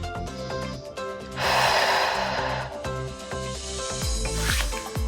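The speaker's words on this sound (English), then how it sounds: "Taking a deep inhale, deep exhale" A deep exhale during a Pilates breathing exercise, heard as one long breathy rush of air lasting about a second and a half, set against steady background music.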